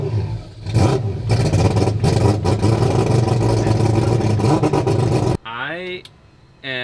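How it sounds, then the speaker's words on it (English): An all-wheel-drive car with a four-rotor rotary engine revs hard on a two-step launch limiter, a loud crackling, popping buzz lasting several seconds before cutting off, followed by a brief higher-pitched rev. "I am loving the throttle response. It sounds really good."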